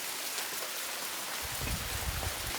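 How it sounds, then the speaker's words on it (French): Downpour after an all-night storm on a Madagascar fishing trip, rain drumming hard and continuously nearby, with heavier low spatters thickening partway through and no one speaking. "là il pleut beaucoup trop"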